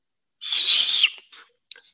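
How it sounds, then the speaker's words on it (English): A person whistling one high, slightly wavering note that lasts about half a second, followed by a few faint short chirps in an otherwise quiet room. "I'm going to start whistling"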